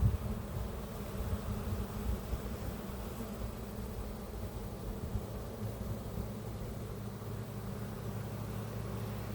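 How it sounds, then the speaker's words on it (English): Honey bees swarm and buzz around an opened hive, a steady low hum holding throughout with no voices over it. "we had bees out the door like crazy"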